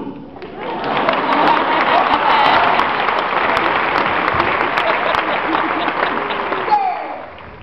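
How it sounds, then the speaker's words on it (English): An audience at an HIV conference in the Bahamas breaks into loud, sustained applause and cheering for several seconds, a dense crowd roar with voices mixed in. "Clap me."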